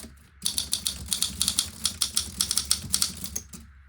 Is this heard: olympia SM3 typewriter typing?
yes